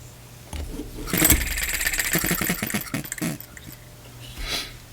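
Brand-new, not broken-in small model engine being cranked in a start attempt, a brief close burst of sputtering and rattling that catches for a couple of seconds and then fades, no speech.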